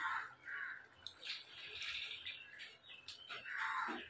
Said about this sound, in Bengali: তো আমি আর একটু জল দিয়ে দেবো।